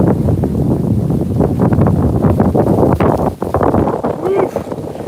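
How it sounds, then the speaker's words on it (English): Strong wind buffets the microphone with a loud, continuous roar at a hilltop temple in Thailand, briefly easing before gusting again, with a voice speaking faintly underneath. "It's way too windy."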